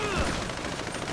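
A burst of automatic rifle fire in GTA 5, a rapid rattling volley of shots packed into about a second, loud and close.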